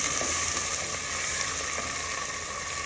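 Onions with garlic and ginger browning in a hot pan for a carrot and pea sabji, giving a steady, dense sizzle that stays loud and even throughout, with no voices.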